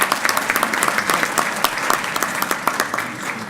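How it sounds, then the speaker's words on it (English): Audience at a county legislative conference applauding during a lieutenant governor's address, a loud, dense round of clapping with sharp individual claps, sustained for the whole stretch. "you can give that a round of applause"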